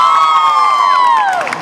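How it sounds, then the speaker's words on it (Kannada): Crowd at an RCB fan event at a mall cheering, led by one sustained, loud whooping voice that slides down in pitch near the end, with no distinct clapping. "ಸೊ ಒಂದ್ಸಲಿ ಎಲ್ಲರಿಗೂ ಜೋರ ಚಪ್ಪಾಳೆ ಬರಲಿ"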